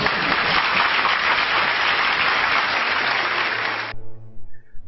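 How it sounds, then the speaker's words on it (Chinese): A hall audience of university students breaks into loud, dense applause that holds steady for about four seconds, then cuts off abruptly into quiet. "底下掌声雷动"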